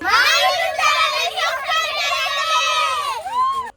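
Several children at a temple fair shout together loudly in unison, a short burst of excited voices close by that cuts off abruptly.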